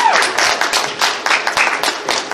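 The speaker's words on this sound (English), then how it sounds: "once again, another applause." Audience clapping after a live music performance at a furry convention, a lively scatter of individual hand claps in uneven bursts, fairly close and loud, with no other sound dominating.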